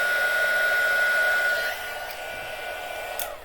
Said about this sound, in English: so that's all of my heat embossing done